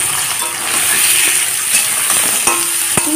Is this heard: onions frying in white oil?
yes